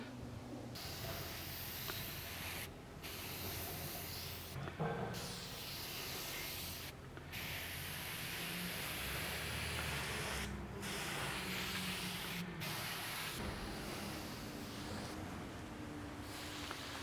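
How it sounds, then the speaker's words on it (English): Cleaner sprayed onto a Jayco camper trailer comes as a close, continuous hiss broken by several brief pauses, with a low rubbing rumble underneath. "I think we might have to spray a little bit more up there"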